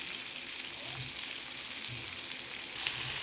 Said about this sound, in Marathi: आपण मच्छी सर्व पलटी मारलेली आहे